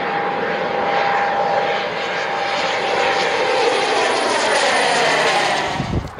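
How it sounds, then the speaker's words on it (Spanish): A small propeller plane flies close by near an airport, its broad engine drone loud and steady throughout with a faint whine, fading slightly at the very end. "dejen grabar esta avioneta."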